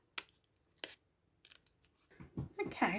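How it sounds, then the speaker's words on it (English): Scissors cutting around paper frames for a junk journal, with a few crisp separate snips, then a denser run of rustling cuts and paper handling that grows louder toward the end, close up and with no talk. "you can just get your scissors in and start cutting around"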